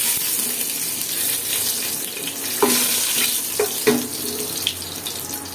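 Whole cardamom pods, cinnamon pieces, bay leaves and cumin seeds frying in mustard oil in a pan, giving a steady close sizzle with a few sharp crackles and pops scattered through it.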